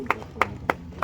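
Hand clapping at a public ceremony, four evenly spaced sharp claps across about a second, close and moderately loud, rather than the full crowd ovation.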